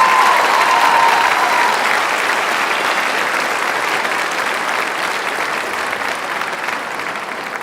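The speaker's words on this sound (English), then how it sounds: "let's give this round of top scholars one more round of applause" Loud, sustained applause from a school honors night audience celebrating a group of top scholars, a thick continuous patter of many hands that stays strong and fades only slightly over several seconds.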